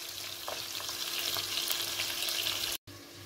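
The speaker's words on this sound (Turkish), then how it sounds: "yağımız kızdıktan sonra kemikli eti ilave ettim ve kavuruyorum" Bone-in meat sizzles and crackles in hot oil in a pan, a steady close frying hiss with scattered pops, cut by a brief gap of silence near the end.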